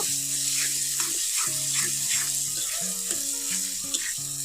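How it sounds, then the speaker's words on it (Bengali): Egg mixed with vegetables fries in a pan, giving a steady close sizzling hiss that runs unbroken throughout beneath a tonal background melody. "তো এগুলো একদম ভাজা ভাজা হওয়া আগ পর্যন্ত আমি এটাকে রান্না করতে থাকবো।"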